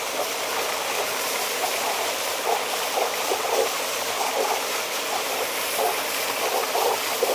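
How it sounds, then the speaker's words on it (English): Water gushes steadily from an opened fire hydrant, a loud, dense rushing hiss that stays constant and close throughout with no voices. "We're going to let the water flow until we no longer see sediment."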